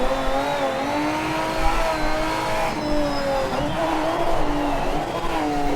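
A race car engine in the video game Project Motor Racing drones and revs continuously at high pitch, its tone sliding up and down through gear changes, loud and steady throughout.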